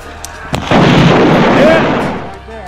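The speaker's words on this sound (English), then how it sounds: "When I spawned back in, I went for one more grenade kill" Grenade blast in a shooter video game: a sharp onset followed by a loud, sustained rumbling roar lasting nearly two seconds, then fading, heard close and alone.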